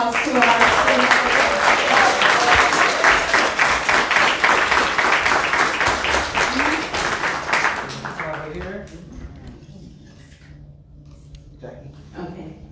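An audience at a women-in-STEM fundraiser applauds loudly for several seconds, the dense clapping fading out as a voice begins talking.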